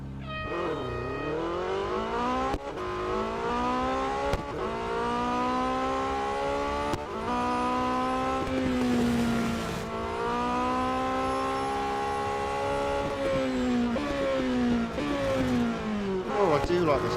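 A concept car's race engine in Real Racing 3 on the Brands Hatch autocross circuit, droning and revving continuously with pitch climbing and then dropping at several gear shifts.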